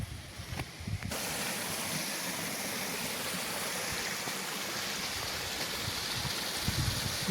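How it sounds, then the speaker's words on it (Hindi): A waterfall in a village in Azad Kashmir pours with a dense, constant rushing hiss, fairly close and steady, following a brief quieter moment at the start. "बहुत ही प्यारा झरना।"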